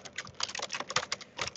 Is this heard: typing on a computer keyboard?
yes